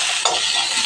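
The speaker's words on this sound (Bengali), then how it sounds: "প্রথমে আমি পেঁয়াজের কাঁচা লঙ্কাটা ছেড়ে দিই তেলে" Chopped onion and green chili sizzle in hot oil in a pan, a steady bright frying hiss with a short stirring scrape partway through, close and alone.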